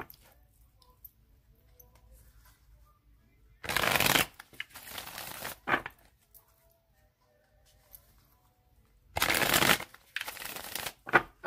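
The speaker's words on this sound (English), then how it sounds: "I'm going to shuffle this 3 more times" Two bursts of tarot cards being shuffled close up, each a dense riffling clatter lasting a couple of seconds, separated by near silence with a faint low hum.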